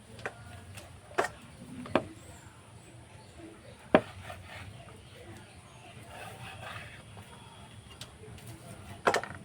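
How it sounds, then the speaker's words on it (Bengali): Knife cutting strips of goja dough on a board for stick-shaped fried sweets, with several sharp chopping knocks spread apart over a soft background hum, one louder strike standing out. "তো সাইডটা আমি কেটে নেব।"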